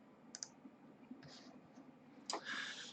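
A few faint, isolated mouse clicks tick quietly in a hushed room, spaced apart, with a slightly louder rustly click near the end.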